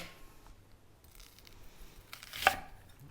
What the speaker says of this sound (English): And we're gonna go to the shallot. Gonna chop off the bottom,